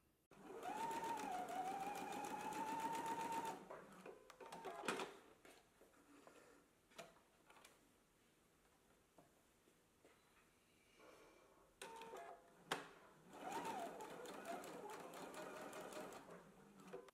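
A sewing machine stitches reinforcement on garment pockets, running in two fast, whirring bursts with quieter clicks and fabric handling in between.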